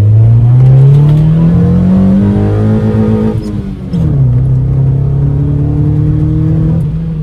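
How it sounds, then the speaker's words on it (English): Mazda 323 dual cam engine with an open intake pulled hard to high revs on a drive, a loud, close, rising engine howl that drops at a gear change and climbs again, with no talk. "That dual cam sings in the high RPM with the intake."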